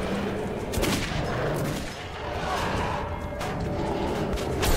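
Gunfire in the post-apocalyptic shooter Metro 2033, a loud, close stream of rapid shots with a few sharper cracks standing out, continuing steadily over a rumbling background.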